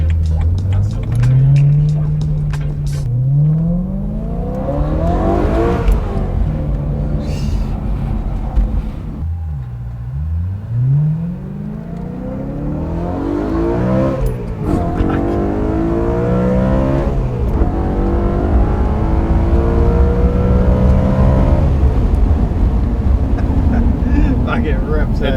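A BMW 1M fitted with the S65 V8 from the M3 revs repeatedly, rising and falling in pitch with a throaty exhaust roar, loud and close.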